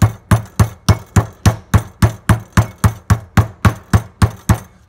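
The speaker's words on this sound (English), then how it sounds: "I'm going to beat it with my mallet" A mallet pounds a pork loin flat with about sixteen heavy, evenly spaced thuds in a steady, quick rhythm. The strikes are close and loud and come without talk.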